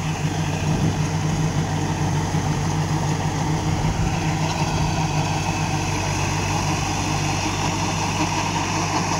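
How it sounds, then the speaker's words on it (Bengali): An old Swaraj tractor runs a rotavator that has a fault, a loud, constant mechanical roar with a steady engine drone and rattling throughout, close up and with no pauses. "লোটারটা এরকম একটু খারাপ আছে, শব্দ হচ্ছে প্রচুর"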